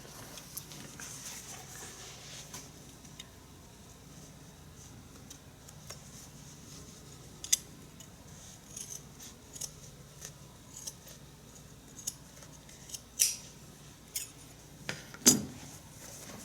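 Scissors trim the edge of a homemade shearling-lined leather moccasin slipper, making sparse, soft snips that grow more frequent and sharper toward the end over a low, steady background hum.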